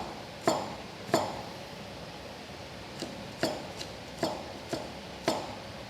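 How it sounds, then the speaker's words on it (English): Garlic being chopped into small pieces with a knife on a board: seven sharp, distinct knocks spaced irregularly, close and clear over quiet background. "cut them into the small pieces, so that chop very small pieces already"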